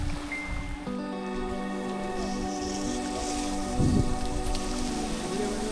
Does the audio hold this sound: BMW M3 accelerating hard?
no